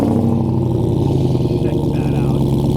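Deep, throbbing rumble of a 6.2-liter supercharged V8 in a Jeep Gladiator Hellcat, idling steadily with a lumpy, pulsing rhythm, close and loud, no revving.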